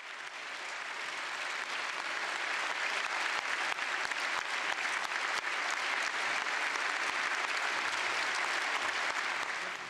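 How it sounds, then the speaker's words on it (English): Sustained applause fills the European Parliament chamber in Strasbourg as members give the Pope a standing ovation, a dense, even clapping from a large crowd holding steady throughout. "The Parliament clapped many times during his speech and even gave him a standing ovation."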